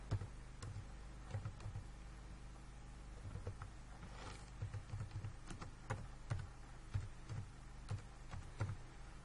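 Typing on a computer keyboard, irregular soft key clicks in short bursts over quiet room noise, close and faint.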